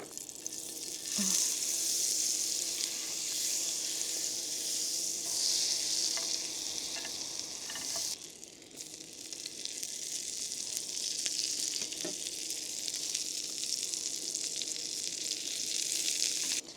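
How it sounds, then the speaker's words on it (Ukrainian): Butter with rosemary and garlic cloves sizzles steadily in a frying pan, a continuous close crackle with brief stirring and clatter, and a short pause midway before the frying resumes. "А на сковородку нам потрібно покласти масло, трошки розмарину і кілька зубчиків часнику."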